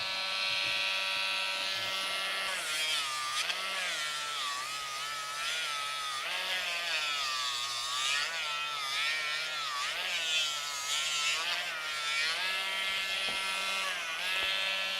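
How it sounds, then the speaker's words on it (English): A Dremel rotary tool grinds a dog's nail, a close, steady high-pitched buzzing whine that dips and rises in pitch as it bears down, with no voices. "If you bathe them first, then you're Dremeling a wet nail"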